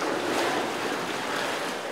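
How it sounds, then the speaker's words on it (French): An unknown underground river flowing in a cave some 80 metres down, a steady broadband rush of water, loud and close and unbroken throughout, with no voices. "Rapidement, la rivière inconnue apparaît."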